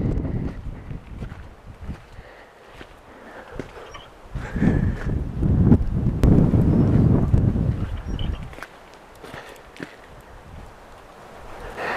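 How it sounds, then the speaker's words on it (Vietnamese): Wind gusts blow across the microphone in an abandoned American ghost town, buffeting loudly in the middle stretch and easing at the start and end, with faint rustling and no speech. "Ồ, gió thổi."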